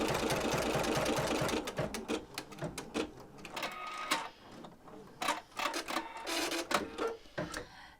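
An embroidery machine stitches out a scalloped design with a steady, rapid mechanical whir and needle clatter, loud and close, before slowing into uneven bursts of stitching with short pauses.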